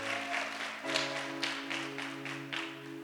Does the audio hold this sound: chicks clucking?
no